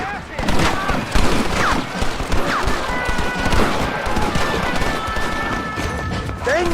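Red Dead Redemption gameplay: gunfire from a fight with thugs, dense and continuous with repeated sharp shots over a loud, busy game soundtrack throughout.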